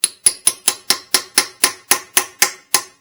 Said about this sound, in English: This one we're going to hammer on too.